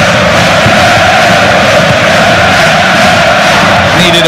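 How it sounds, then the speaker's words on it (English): A packed football stadium crowd roars loudly and steadily throughout a DFB-Pokal cup match between FC Köln and FC Bayern München, forming a dense, unbroken wash of noise. "Listen to the crowd now."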